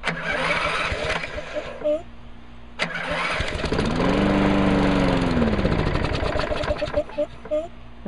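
A 2010 Lawnboy 10642C lawn mower being pull-started after sitting with old gas: short sputtering attempts, then the engine catches and runs loudly for a couple of seconds before dying, followed by further pull attempts.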